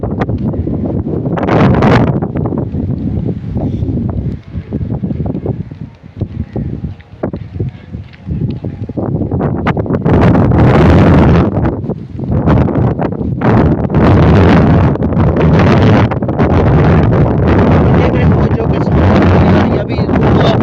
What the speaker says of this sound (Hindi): आ रही है तेज हवा है